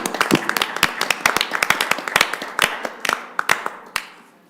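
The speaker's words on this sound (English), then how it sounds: "How about a round of applause?" Scattered hand claps at a village council meeting, a small group clapping unevenly with distinct individual claps that thin out and stop near the end.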